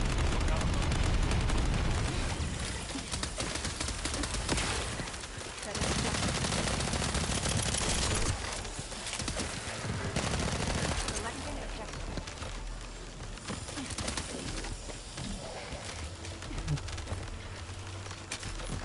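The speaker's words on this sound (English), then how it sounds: "On your signal, will initiate suppressing fire." Sustained suppressing gunfire in The First Descendant, dense rattling automatic bursts layered with booming impacts at fairly steady loudness, with a voice talking over parts of the barrage.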